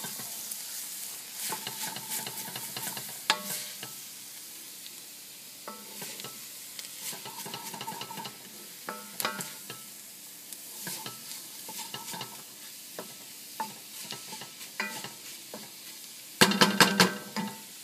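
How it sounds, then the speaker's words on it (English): Garlic, pepper and chili powder stirred in a hot pan, a low sizzle under repeated rhythmic scrapes and taps of a spoon, close and fairly quiet, with a louder clattering burst near the end. "Give it a stir."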